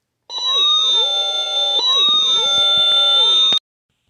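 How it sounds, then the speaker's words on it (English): A 1992 Funrise City Force toy fire truck sounds its electronic siren, a loud close wailing tone that sweeps up and down in steady cycles for about three seconds before cutting off abruptly. "like when it starts the siren,"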